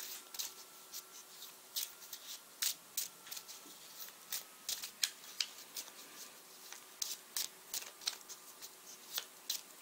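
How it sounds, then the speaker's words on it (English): Tarot cards are shuffled close by in quick, irregular bursts of crisp riffling snaps and slaps over a quiet background, with no talk. "let's pick clarifying cards very quickly."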